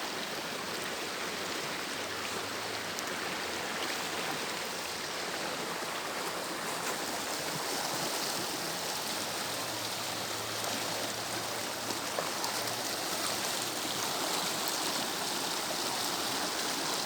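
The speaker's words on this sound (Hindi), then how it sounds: "और ये साथ में दरिया बह रहा है" A snowmelt-fed mountain river, the Kunhar in Pakistan's Naran valley, rushes steadily with a dense, even roar of flowing water that holds constant throughout, close and loud with no voices.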